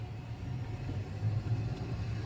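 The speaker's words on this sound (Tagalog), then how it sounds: "Dito pa rin tayo guys sa traffic oh." Road traffic in a jam heard from inside a vehicle, a steady low engine rumble that swells slightly, with no talking.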